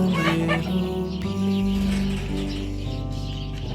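Farm chickens clucking steadily and loudly for several seconds with no one speaking, their calls layered over a dense, sustained tonal background.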